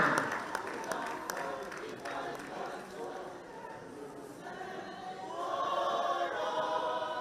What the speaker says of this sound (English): continue clapping for them until they reach the stage